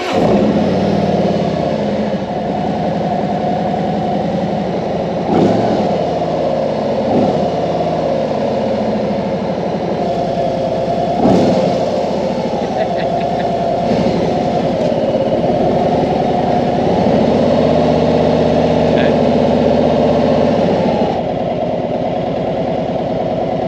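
A 2018 Harley-Davidson Street Glide Anniversary Edition motorcycle engine runs steadily at idle, a loud, close, continuous low rumble with a few brief blips of throttle, and no talking.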